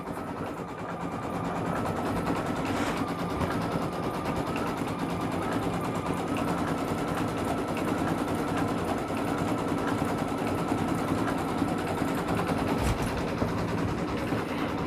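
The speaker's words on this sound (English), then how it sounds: "I'm not going to make you all sit and listen to 22 minutes of stitching" Embroidery machine stitching a napkin in a small 4x4 hoop: a rapid, steady mechanical needle rattle with a motor hum runs continuously and loudly, without speech.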